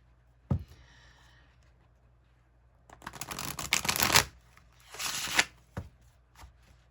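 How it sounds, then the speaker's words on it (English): Tarot cards are shuffled close by: a quick flick, then two longer riffling bursts separated by a pause, with a few soft taps. "let's shuffle"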